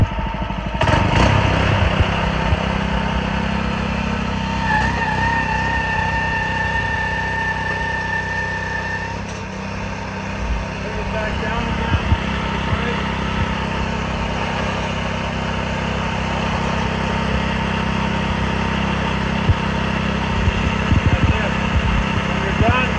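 The small engine of a TranzSporter TP250 ladder hoist shingle lift runs at a steady, close, rumbling idle throughout, while a person talks over it.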